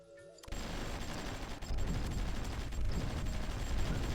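Dense battlefield gunfire from the strategy game Supreme Ruler Ultimate, a steady rolling barrage of shots and distant booms that swells after a brief quiet start and continues loudly throughout.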